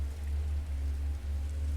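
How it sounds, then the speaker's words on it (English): Soft rain falling beyond the windows of a library, a steady, even patter with a low, constant rumble underneath, gentle and continuous throughout. "The rain continues softly beyond the windows"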